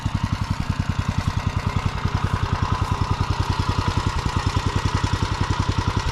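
A BCS two-wheel tractor pulling a Biagioli & Figli subsoiler through soil runs with a steady, close, fast single-cylinder engine putter at an even pulse, fairly loud and alone with no voices.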